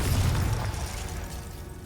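Confringo fire spell bursting in Hogwarts Legacy: a deep booming blast right at the start that rolls off into a dull, fading rumble over the following second or so.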